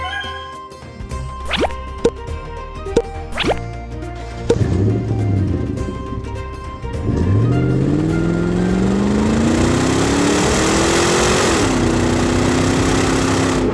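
A small electric motor of a toy ride-on car whirs steadily with a rising then settling pitch, preceded by a few clicks and plastic knocks, running loud and close.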